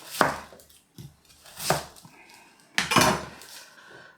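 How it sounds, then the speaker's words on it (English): A knife coarsely chopping an onion on a cutting board, about four firm, close thuds at an uneven pace, each with a faint scrape, and no talking. "I do need to just coarsely chop the onion"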